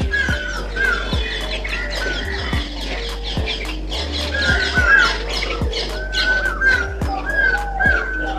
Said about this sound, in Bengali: নারকেল গাছে টিয়া পাখি, দেখো টিয়া পাখি উড়ে যাচ্ছে।